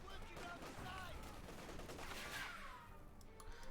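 Dense machine gun fire in the World War II strategy game Company of Heroes 2, during an OKW versus UKF match: sustained, loud crackling bursts over a busy battle din with no pauses.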